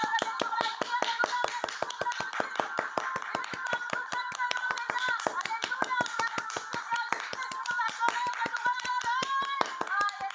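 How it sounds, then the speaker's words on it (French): A worship congregation claps in a fast, steady rhythm, with sharp hand claps dense and continuous throughout while singing voices carry on beneath them. "On va tous l'applaudir, l'acclamer pour lui dire qu'il est grand."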